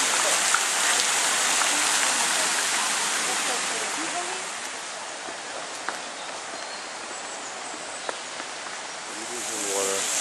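Fountain water in Italy splashing and pattering steadily like heavy rain, a continuous broadband wash throughout with brief faint voices and a few footsteps nearby.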